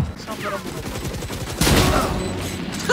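Rapid bursts of video-game gunfire, loud and close, firing in dense volleys with a sharper blast midway, while a player talks over it.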